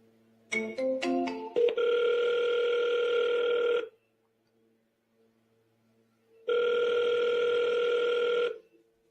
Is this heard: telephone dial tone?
yes